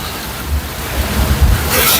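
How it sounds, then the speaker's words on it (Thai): Steady rain and gusting wind roar together in a broad, continuous wash, with occasional low rumbling buffets against the microphone. "ฝนตกครับพี่น้องฝนตกฝนตก"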